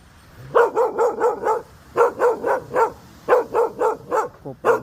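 A dog barks in fast repeated bursts, three runs of four to five sharp barks each with short pauses between, close and loud, with no talking.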